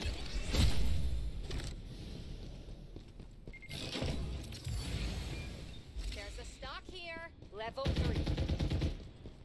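Rapid bursts of gunfire from the video game Farlight 84 ring out in several separate volleys over busy game sounds and effects.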